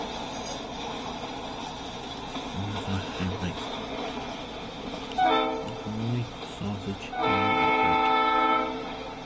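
A Norfolk Southern eastbound freight manifest train rumbles past steadily at Fostoria, Ohio, while its horn sounds in several blasts, the last one long and loud, nearby and unaccompanied by talk.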